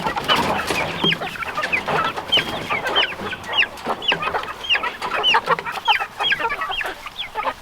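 A flock of chickens clucks busily around a new automatic coop outdoors, with repeated short clucks and rising calls overlapping in irregular bursts, fairly close and with no talking.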